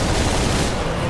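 Hand grenades go off in rapid succession inside the Warhammer 40,000 Space Marine video game, making a dense, loud, continuous barrage of blasts.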